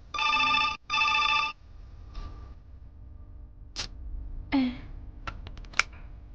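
A telephone bell rings in two loud, close trills one after the other, then stops, leaving a quiet room with a few small clicks and knocks.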